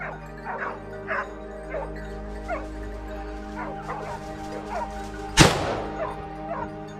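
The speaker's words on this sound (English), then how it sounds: "The wild boar is surrounded by the hunting dogs." Hunting dogs bark and yip in quick excited bursts while surrounding a wild boar outdoors, with whimpering between barks and a sudden loud crack, likely a gunshot, near the end.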